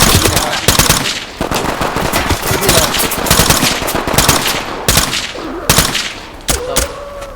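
In the tactical shooter Ready or Not, dense rapid gunfire rattles in loud, close bursts with brief pauses between volleys.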